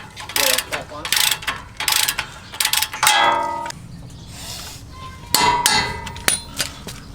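Lower spindle bolts on a 2017 Toyota Tacoma are tightened with a ratchet, producing bursts of rapid clicking and metallic clanks and a sustained ratcheting whir, close by, in irregular spurts.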